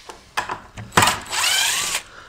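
A power driver whirs briefly, backing wood screws out of an old outdrive stand, preceded by a few clicks and knocks; one steady close whine lasting about a second.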